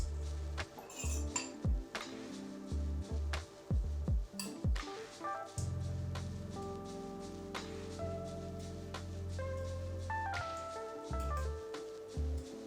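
A metal pan clanking onto a stove among other utensil knocks and clinks, a few sharp bangs early on followed by a softer sustained hum, close and moderately loud.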